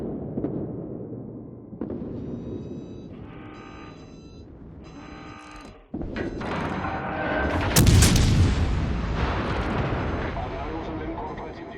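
Warship artillery in the video game World of Warships: Legends, heavy booming salvos with rumbling blasts that build to a loud roar partway through, under a voice talking.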